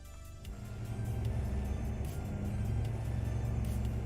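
Steady low truck engine rumble with continuous road noise in a trucking video game, a vehicle droning along at constant speed without pause.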